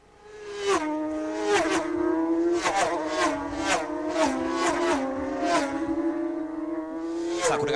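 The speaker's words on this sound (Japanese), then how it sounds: "この 500cc の音ってのはすごいですね" A 500cc racing motorcycle engine screams at high revs, its pitch dropping and climbing through gear changes as the bike races along the course, loud and continuous with no talk.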